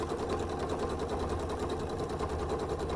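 A sewing machine runs steadily while free motion quilting stars, its quiet, even motor hum and rapid stitching buzz continuing without pause and with no voices.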